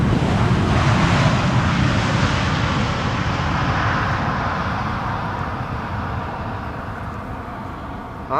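A Boeing 777-300 airliner approaches runway 18R at Amsterdam Schiphol, its engines a broad steady roar that slowly fades over several seconds, with no talking.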